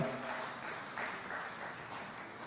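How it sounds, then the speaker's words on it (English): An audience at a Kenyan parliamentary association launch gives a warm round of applause, a soft, continuous wash of many hands clapping at a distance, fairly faint and steady. "please let's recognize them with a warm clap"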